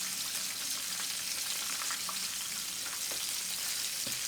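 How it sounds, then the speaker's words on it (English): Jerk chicken sizzles loudly in a hot pan on high heat, a dense continuous frying crackle with scattered pops and spits, close and unbroken by talk. "Now it's high, sizzling."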